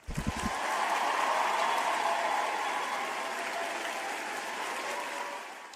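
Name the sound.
applause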